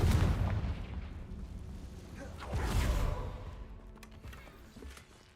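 A Confringo fire spell bursts in Hogwarts Legacy, a loud booming blast with a whooshing rush that flares twice and then fades away.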